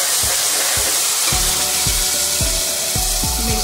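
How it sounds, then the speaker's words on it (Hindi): Ginger-garlic paste tipped into onions already frying in oil for a guar bean pod keema dish, giving a steady loud sizzle with repeated low scraping knocks of a spoon stirring against the pan, no voices. "प्याज हमारी अच्छे से भून चुकी है, इसमें अब हम डालेंगे अदरक लहसुन एक चम्मच।"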